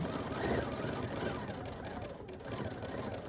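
An Aveneer sewing machine stitches in stitch regulation mode, giving a continuous, fairly quiet mechanical hum and rapid needle chatter up close, with a soft voice faintly underneath.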